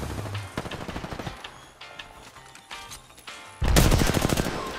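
Rapid automatic gunfire from the video game Apex Legends on the Worlds Edge map, loud and sustained in dense bursts that grow heavier and louder toward the end.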